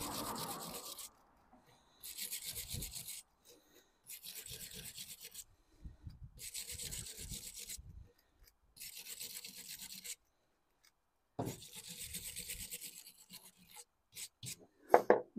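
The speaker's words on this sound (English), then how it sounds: "Just going to put a wire brush in there just to clean it up a little bit." A wire brush scrubs back and forth along a lead edge in repeated short bursts of dry, hissing rasping, close and steady, separated by brief pauses.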